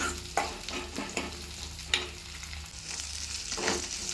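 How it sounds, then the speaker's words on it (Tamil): Garlic and onion sautéing with curry leaves in a pan, a soft continuous sizzle broken by several distinct scraping stirs of a spoon, close and fairly quiet. "இது ஒரு ரெண்டு நிமிஷத்துக்கு நல்லா வதங்கட்டும் கருவேப்பிலை கொஞ்சம் சேர்த்துக்கலாம்"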